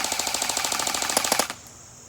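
A CYMA MK12 Mod1 airsoft gun on stock internals fires a fast burst of about twenty sharp, evenly spaced semi-auto shots, loud and close, then stops abruptly.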